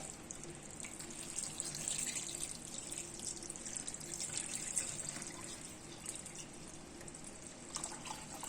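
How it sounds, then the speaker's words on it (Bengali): Water is poured steadily into a pot of hot cooked rice to make panta bhat, the Bengali fermented rice, giving a soft continuous splashing trickle that runs for several seconds without any talk. "আর এবার আমি গরম ভাতের মধ্যে আমি জল ঢেলে দিচ্ছি।"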